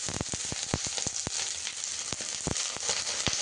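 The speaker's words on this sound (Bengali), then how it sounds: "ঢাকনা জলগুলোর মধ্যে দিলে আওয়াজ আসে" Water dripping from a lifted pot lid sizzles sharply in a hot pan, a steady crackling hiss broken by frequent loud pops and spits, close and continuous with no voices.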